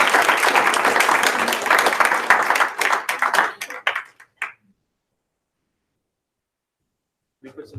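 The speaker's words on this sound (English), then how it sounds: "Well, first, let's applaud you." An audience at a forum applauds a guest speaker, a full round of clapping that thins into a few scattered claps and stops, followed by near silence and a brief sound at the end.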